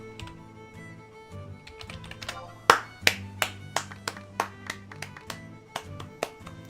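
A burst of rhythmic clapping by characters in Final Fantasy XI, a dozen or so sharp claps at an even pace over a soft background hum.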